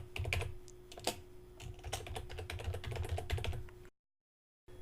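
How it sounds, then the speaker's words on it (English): Fingers type steadily on a computer keyboard while someone adds a dash and a name to a WordPress blog post, close-up rapid clicking over a low hum, ending abruptly in silence. "now what I'll do is I'll add a dash and then write Mark's name."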